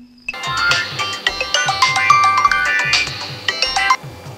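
A mobile phone ringtone plays loud and close as a repeating electronic melody, alone without talk, starting after a short quiet moment.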